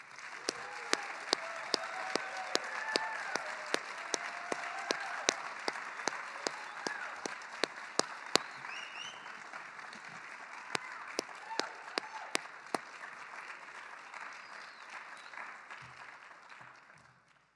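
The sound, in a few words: audience applauding new NHS members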